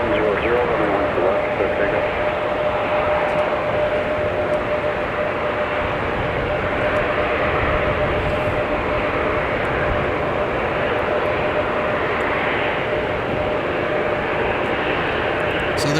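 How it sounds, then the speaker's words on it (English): A Southwest Boeing 737 MAX 8 arriving to touch down at Minneapolis–St. Paul Airport in a winter storm, a loud, steady engine roar with a faint whine layered over wind noise, holding at constant strength throughout. "Logan's trying to find an arriving Southwest 737 MAX 8 that's just about to touch down."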